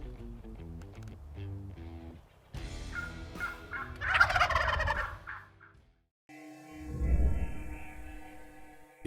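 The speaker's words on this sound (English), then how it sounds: "there are still other birds gobbling in the area" Wild turkeys gobble in the woods during a spring hunt, several loud rattling gobbles bursting out at intervals, some close and some farther off, with brief pauses between calls.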